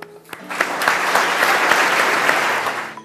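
Audience applause fills the room at a Spanish company ceremony as the manager of Juan Antonio Rivera SL is introduced, a steady dense wash of clapping that swells quickly, holds for about three seconds and then fades.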